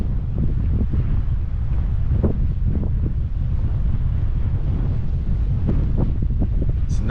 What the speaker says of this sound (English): that wind coming right off the bay